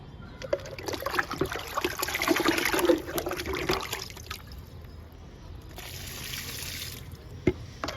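Liquid fertilizer pours and trickles onto a potted sapota plant, a close, uneven splashing stream that fades midway and then resumes more softly.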